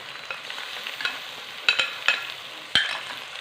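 Ginger-garlic paste and browned onions fry in a pan with a steady sizzle, broken by several sharp scraping clicks as the mixture is stirred, close and moderately loud, with no talking.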